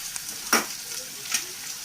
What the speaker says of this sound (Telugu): కొంచెం కొత్తిమీర అనేది నేను ఆయిల్లోనే యాడ్ చేస్తాను.